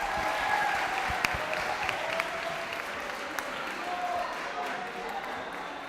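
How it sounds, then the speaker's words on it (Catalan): Applause from a small group during a live World Radio Day quiz broadcast at a local radio station in Alpicat, steady clapping with a few sharper individual claps, under faint background talk. "Un aplaudiment aquí."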